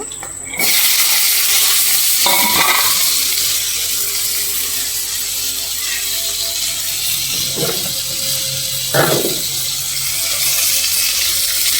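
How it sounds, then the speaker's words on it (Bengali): Chopped pumpkin fries in hot oil in a wok after a mustard-seed and green-chili tempering, a loud continuous sizzle and hiss that starts abruptly, with a few scraping stirs along the way. "এখন কুমড়াটা ভাজবো আর কি তো কুচানো কুমড়াটাও দিয়ে দেব"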